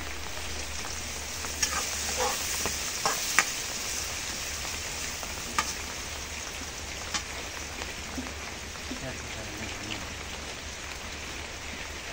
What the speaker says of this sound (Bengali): এখন পেঁয়াজ ভাজা হয়েছে